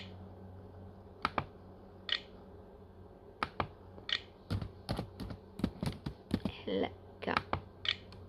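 Keys clatter on a computer keyboard in uneven bursts of clicks and taps, close and fairly quiet, with short pauses between runs over a low steady background hum.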